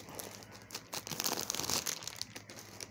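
A plastic bag crinkles and rustles in bursts while a sarong is unboxed, crisp crackling rising and falling at close range with no talk.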